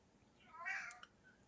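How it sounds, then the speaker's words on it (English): An indoor cat lets out a single drawn-out, insistent meow, wanting to go outside, heard fairly close against quiet background. "My cat is furious. He wants to go outside, but he really doesn't because it's cold,"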